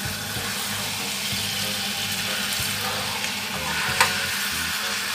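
Fish sizzling and frying in a Teflon pan with seasoning, a close, steady crackling hiss running throughout with faint stirring and scraping, plus a brief sharp clink near the end; no one speaks.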